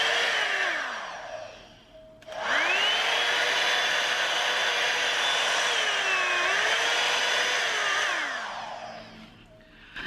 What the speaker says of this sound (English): To turn on the hairdryer you have to twist it left and right to switch between modes.